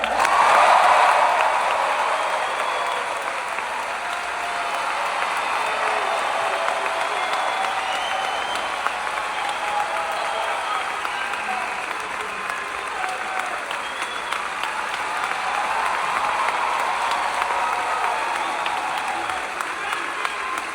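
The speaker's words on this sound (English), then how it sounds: "Just because I say thank you doesn't mean you have to stop applauding." Theatre audience at a comedy show at Ruth Eckerd Hall in Clearwater, Florida, applauding in a steady, dense wash of clapping that holds loud for the whole stretch, with a voice briefly over the start.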